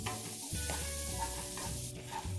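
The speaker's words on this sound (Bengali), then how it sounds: "অল্প একটু জল দিলাম যাতে মশলাটা পুড়ে না যায়। মশলাটা আমি 2 মিনিট ধরে কষাতে থাকব।" A spice masala with a splash of water fries in a pan, giving a steady close sizzle with soft stirring scrapes throughout the short stretch.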